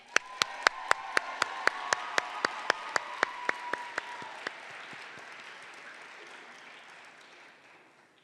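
A crowd at a state FFA leadership conference session applauds to welcome a regional vice president. A few loud, sharp claps ring out in a steady rhythm over broad applause that slowly fades.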